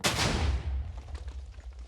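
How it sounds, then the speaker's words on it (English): A modded TNT block in Minecraft detonates in a sudden, powerful blast, with a sharp crack followed by a deep rumbling boom that slowly dies away, loud and close with no talk. "It's a very fast explosion."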